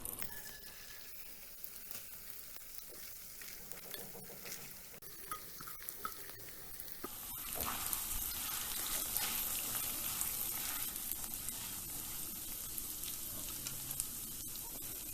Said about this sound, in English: Once the oil is tempered, add in the moong dal or the lentils.